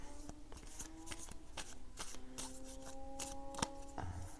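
Circular pagan playing cards being shuffled by hand, a quiet sequence of soft riffling and sliding taps in an otherwise still room, close by.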